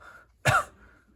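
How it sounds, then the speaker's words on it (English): One short, sharp cough during a motor speech examination, a single close burst in a quiet room, more like a throat-clearing cough. "if you don't care to cough for me"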